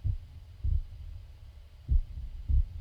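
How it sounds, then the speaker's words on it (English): A heartbeat from the video game Black Mirror thumps deep and muffled, four low beats spaced unevenly across a quiet hum, alone with no talk. "There's a heartbeat."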